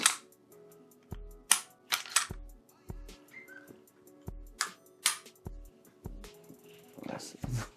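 Sharp mechanical clicks from a Canik Mete MC9LS pistol trigger being pulled through its break and let out to reset, several snapping taps spaced unevenly, close and fairly loud over quiet room noise.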